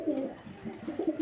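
Several pigeons coo in low, soft, throaty rolls close by, the cooing repeating in a loose rhythm over a quiet background at a pigeon seller's loft where fancy pigeons are kept.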